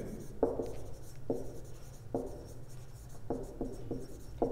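Pen or pencil writing out a maths solution by hand, a series of short scratchy strokes in irregular bursts, close and fairly quiet, with no talking.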